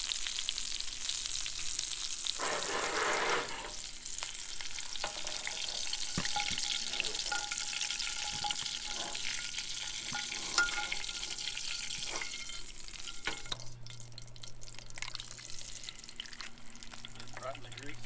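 Eggs frying in grease in a pan over a campfire at a camp breakfast, giving a steady crackling sizzle throughout with occasional stirring or scraping clinks, heard close.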